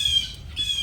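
A blue jay, a corvid, gives two harsh, nasal squawks in quick succession, close and fairly loud over a low background rumble.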